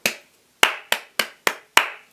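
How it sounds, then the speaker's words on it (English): Children's hands clapping out a rhythm, six crisp sharp claps in an uneven pattern after a short opening clap, close and distinct with brief silences between. "Can you tap this rhythm for me just like this, just like this?"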